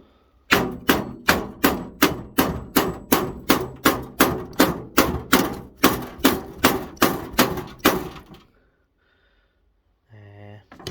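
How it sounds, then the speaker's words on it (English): About twenty evenly spaced one-handed hammer blows ring out loud and close while scrapping an air fryer bread maker, then stop; a short voiced sound follows after a pause. "One-handed hammering's never great."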